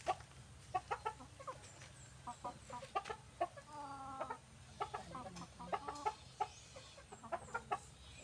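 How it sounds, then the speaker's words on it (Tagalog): Repeated short clucks from a chicken come in uneven bursts over steady low background noise, fairly close. "Ang ating manok."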